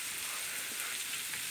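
Egg-dipped bread frying in a pan, a steady close hiss of sizzling oil running evenly and alone throughout.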